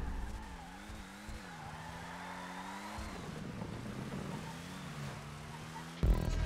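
A race car in GTA Online spins out, its engine whining in wavering pitch under continuous tire skidding and squealing, ending in a sudden thump of impact.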